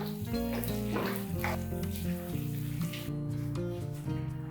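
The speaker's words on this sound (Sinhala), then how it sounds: "අපි අයින් කරගෙන ඉස්සෝ ටික ෆ්‍රයි කරගමු" Prawns fry in a pan for mixed fried rice, giving a steady, close sizzle with spattering crackles that runs unbroken for several seconds, no voices over it.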